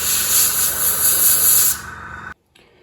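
An airbrush sprays Tamiya lacquer paint onto 1/200 scale model ship guns, a steady close hiss that runs for under two seconds, then tapers to a faint airflow and stops abruptly.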